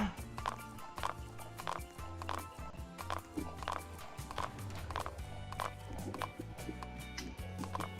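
Horse hooves clip-clop at a steady, quick walking rhythm in a video game, loud and close, with faint game ambience underneath.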